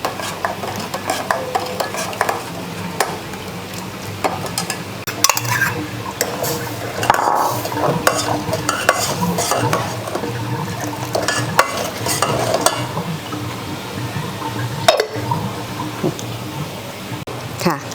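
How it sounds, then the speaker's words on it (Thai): A spoon stirs sugar into an agar jelly mixture in a pot for layered coconut jelly, with busy scraping and clinking against the metal under steady speech from a woman nearby. "ใส่น้ำตาลแล้วก็คนค่ะ กันน้ำตาลติดก้น"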